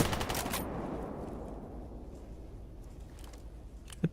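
A bandit fires at the player in the video game GAMMA: a short burst of gunfire at the start, then a low rumbling tail and one faint sharp shot near the end.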